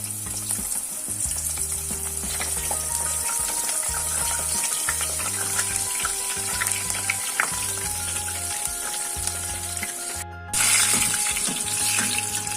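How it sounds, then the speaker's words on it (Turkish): Oil sizzles and crackles steadily as eggplant fries in a pan, a loud continuous hiss with a rhythmic bass beat of background music underneath. "Onları da hemen patatesin ardından kızartıyorum."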